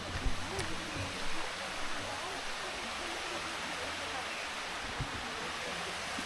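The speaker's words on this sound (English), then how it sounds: "These are sticky waterfalls." The Sticky Waterfalls near Chiang Mai give a steady, broad rushing wash of falling water that stays constant throughout, with a few faint knocks and no clear talk.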